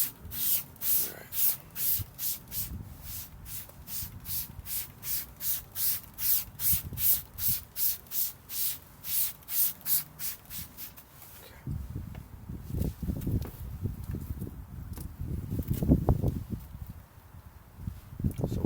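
Optimum No Rinse wash wiped over car paint to lift chalk marker: a rapid, regular series of close rubbing strokes, then slower, louder scrubbing and rustling toward the end, with no one speaking.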